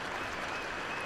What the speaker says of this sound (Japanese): 拍手がまばらでしたもんね。